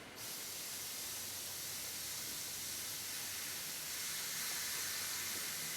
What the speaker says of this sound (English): it's all about getting the airbrush going